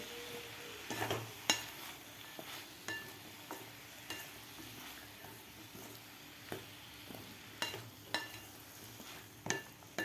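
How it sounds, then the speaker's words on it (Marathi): Vegetables and dry spices are stirred in a pan for a millet (bajra) khichdi, with a steady sizzle underneath and intermittent scrapes and light clinks of the spoon against the pan. No talking. "आपल्याला आता सुके मसाले घातल्यानंतर सुद्धा आपल्याला व्यवस्थित मिक्स करून घ्यायचा आहे खालच्या भाज्यामध्ये"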